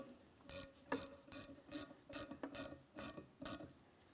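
Ratchet wrench snugging a small grease fitting into the center link of a 2007-2014 GMC Sierra 2500 HD, about eight quick close clicking strokes in an even rhythm over four seconds.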